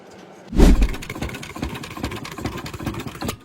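An antique Fairbanks-Morse stationary engine from around 1917 starts with a loud thump, then runs on at a steady, rhythmic chug with no one talking.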